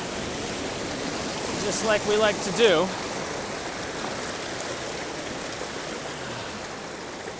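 Rushing water from a small creek waterfall among alders fills the whole stretch as a steady broadband roar, with someone speaking briefly over it near the middle.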